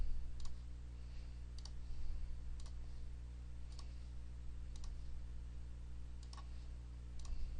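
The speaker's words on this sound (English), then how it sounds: "To select an answer, they just have to click an answer." A computer mouse clicks as quiz answers are selected, about ten crisp, close single and double clicks spaced irregularly over a low electrical hum.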